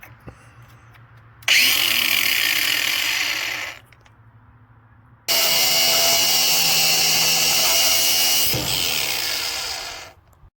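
A power tool fitted with a cutting disc slices through metal for a clutch nut socket, with two loud sustained whining cuts and a short quiet pause between them.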